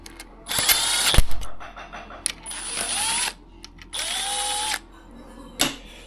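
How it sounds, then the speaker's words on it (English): Ratcheting tool tightening the handlebar clamp bolts on a CR125 motorcycle: several bursts of close, loud ratchet clicking, each lasting about a second, separated by short pauses. "now we've just got to tighten these up a little bit"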